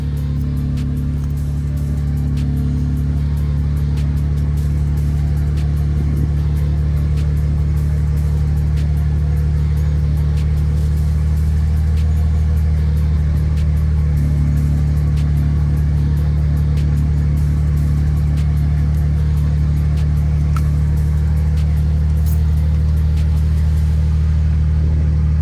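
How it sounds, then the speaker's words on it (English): A BMW engine idling steadily on the fuel left in the line while the low-pressure fuel pump harness is disconnected, a loud, even low rumble running unbroken for the whole stretch with no talk. "The harness is disconnected, but still the car's running."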